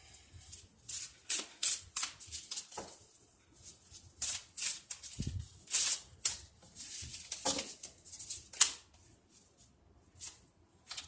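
Tarot cards are shuffled and drawn by hand, giving soft, close, irregular riffles, flicks and taps with quiet gaps between them.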